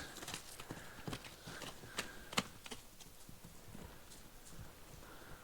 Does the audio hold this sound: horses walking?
yes